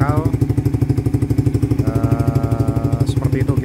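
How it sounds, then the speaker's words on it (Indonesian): A Suzuki GSX-R150 motorcycle engine fitted with a locally made Satria FU exhaust runs close by with a rapid, throbbing pulse and a tinny rasp, revving briefly partway through. "itu kira-kira gambaran suara kalau GSX dipakaikan knalpot Satria FU"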